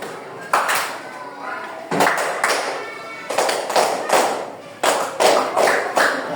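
A class of sixth-grade children clapping hands on cue during a PE game, several separate bursts of sharp, fairly close claps spread across the stretch, with an adult voice talking between them.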